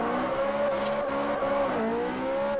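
Engine of a Spider convertible sports car in the video game Forza Horizon, a steady revving drone that holds pitch, dips briefly as if shifting, then climbs again, close and continuous.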